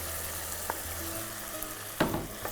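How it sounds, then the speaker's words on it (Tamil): Bottle gourd goes into a pan of sautéed onion and tomato with a steady, soft sizzle, broken by a couple of brief clinks and stirring scrapes. "இதில் சுரக்காயை போட்டுறேன்."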